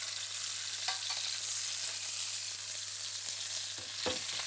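Chicken pieces fry in a sauté pan, a soft continuous sizzle close by with a few faint clinks and taps of utensils, no voices.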